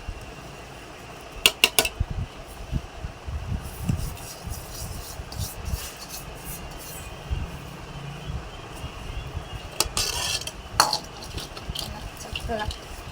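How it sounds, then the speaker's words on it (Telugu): Tempering being stirred into tamarind rice in a metal vessel, with rubbing, scraping spoon strokes and occasional sharp clinks, close by under a low steady background hum. "ఈ తాలింపు అనేది దీంట్లోకి ఇలా కలుపుకోవాలి."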